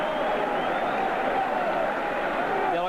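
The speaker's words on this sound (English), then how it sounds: "the vocal Bruins in the crowd here" A stadium crowd of UCLA Bruins fans roars at the 1985 Fiesta Bowl against Miami, a steady, distant wash of cheering and applause that sustains throughout.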